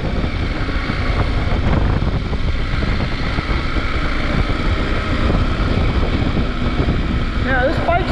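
A KTM 890 Adventure R motorcycle riding fast, with a loud, steady engine roar and heavy wind rush from start to finish.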